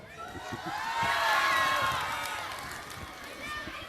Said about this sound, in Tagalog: ipakita ninyo ang inyong ingay, palakpakan at sigawan